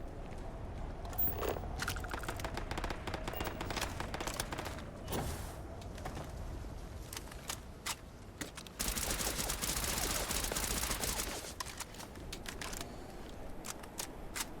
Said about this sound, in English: I hear shooting. Oh, they're practicing.